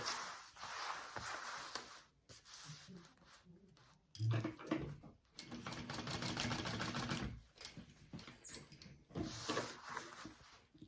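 A sewing machine bastes the lining of a laptop bag, running in several bursts of rapid stitching separated by short pauses, fairly close and steady.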